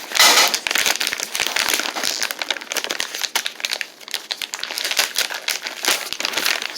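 A Simms Original Recipe sugar-free pork snack stick package is torn open, producing loud, close, continuous plastic crinkling and crackling with no pauses and no talk.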